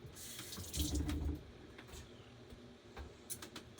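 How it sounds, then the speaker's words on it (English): Hands are rinsed under a running kitchen tap while making vegan lentil burgers: a short burst of flowing water, then a few faint drips and splashes, close and quiet. "Rinse my hands."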